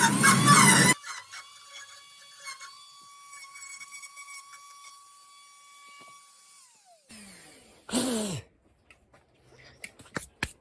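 A Dremel rotary tool carving a wood spirit face gives a steady, high-pitched whine for several seconds, then stops. It is framed by louder, rougher grinding bursts at the start and near the end, with no talk.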